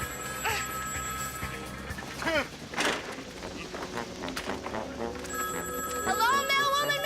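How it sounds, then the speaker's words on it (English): A telephone bell rings in a cartoon scene, sounding in bursts amid music and background effects, with voices nearby. "let me answer that ringing phone."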